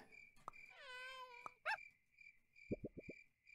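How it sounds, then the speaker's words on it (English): The ghost cat in the Super Auto Pets video game lets out an eerie, wavering cry, like a mournful meow. Faint electronic blips and a quick run of soft plops sit around it, all quiet. "I never realized how scary that ghost cat sound is."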